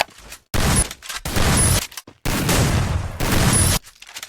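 Bursts of rapid gunfire in the Free Fire video game, four dense volleys separated by short gaps, loud and close.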